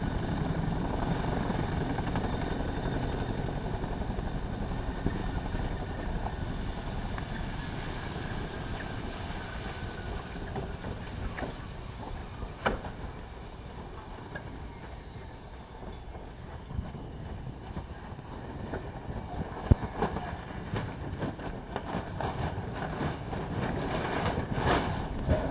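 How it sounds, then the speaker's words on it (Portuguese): A helicopter in ground resonance, its tail rotor shaking sideways, makes a steady loud rotor and turbine drone with a continuous mechanical rattle and occasional sharp clicks and knocks throughout, with no voices. "O rotor traseiro ele começou a vibrar lateralmente"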